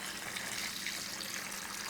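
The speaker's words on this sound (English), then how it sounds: "now we're just going to carefully pour half the mixture into each bag" Turkey brine poured from a container into a plastic bag makes a steady, continuous liquid rush and splash that holds at an even level for about two seconds, with no talking.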